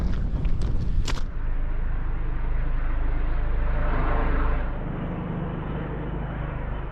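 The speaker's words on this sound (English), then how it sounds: "So the helicopter's just landed on the peak there." A helicopter flies near the mountain peak on Snowdon's Watkins Path in Snowdonia, Wales, its rotor and engine a steady broad rumble that holds for several seconds, then eases slightly quieter.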